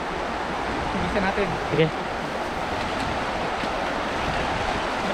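Strong current of a large river rushing steadily and close, a broad continuous wash of water with brief talk from a man in the middle.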